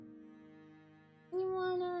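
Cat meowing close by, a sustained tonal meow rising in loudness partway through, drawn out and clear.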